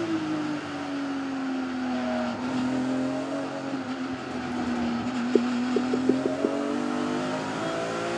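A Thunder Saloons race car engine at Silverstone International, heard from inside the car, droning loudly and sustained, its pitch sagging then climbing, with a short burst of crackles near the end.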